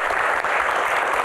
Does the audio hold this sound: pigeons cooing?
no